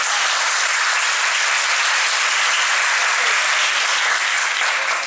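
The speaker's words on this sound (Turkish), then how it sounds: "en son hocam bir alkışlayalım." Audience applause at a school gathering, a dense continuous roar of many hands clapping, loud and close, sustained evenly throughout before easing slightly at the very end.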